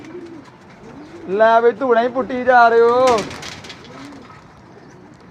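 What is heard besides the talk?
pigeons cooing, white-marked female pigeon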